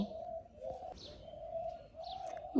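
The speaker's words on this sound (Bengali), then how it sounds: "ঘুঘু পাখি ডাকতেছে পাখির ডাক একটু শুনেন" A dove (ghughu) calls outdoors in a rural yard at dawn, with a soft sustained coo and a few brief chirps, moderately close, over quiet background and no talk.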